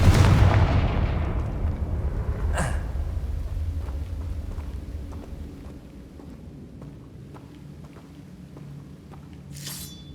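A Confringo fire spell explodes in the video game Hogwarts Legacy. A heavy booming blast opens and slowly rumbles away, with a sharp crack a few seconds later and another burst near the end.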